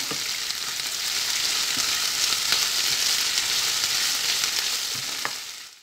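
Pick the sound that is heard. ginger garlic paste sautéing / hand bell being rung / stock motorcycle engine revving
ginger garlic paste sautéing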